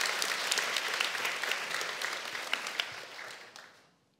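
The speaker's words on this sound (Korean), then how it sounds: "큰 박수 부탁드리겠습니다." An audience at a gathering applauds in a full, bright wash of many hands clapping, strong at first and then thinning out and fading to silence near the end.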